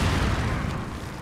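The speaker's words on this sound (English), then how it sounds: "the explosion was clearly on me, but I did not take damage" A bomb blast in Resident Evil 4, a loud, dense, rumbling boom that fills the moment and then slowly fades.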